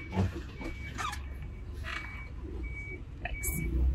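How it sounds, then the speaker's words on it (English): A truck creaks under a heavy pallet of pellets, giving intermittent squeaky creaks over a low background rumble, with faint indistinct voices nearby. "I hear creaking."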